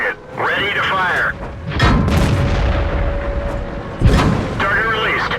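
Tank cannon fire in a video game: heavy booming shots with thudding low rumble, one loud blast near the start of the second half and another around four seconds, mixed with crew radio voices speaking over the action.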